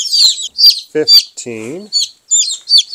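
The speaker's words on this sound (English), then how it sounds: "That's a little buff Orpington right there. Cute little brown bird." Buff Orpington chicks peep in quick, high bursts through the brooder, close by and fairly loud, while someone talks over and between the chirps.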